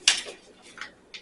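A spoon scrapes and clinks against a bowl while mixing in two teaspoons of Knox gelatin, with a loud first stroke followed by two lighter taps, close up.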